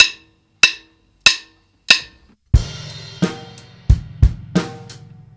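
Funk drum kit groove for a grade 1 drum lesson: four crisp, evenly spaced hi-hat ticks count in, then bass drum and snare hits join in a syncopated pattern with ringing cymbal, close and clear.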